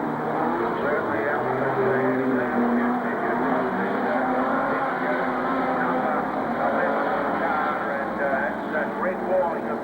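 Modified sedan race cars roar around Carrick Speedway in a 1998 Australian title race, a dense continuous engine drone held steadily loud beneath a commentator's ongoing talk.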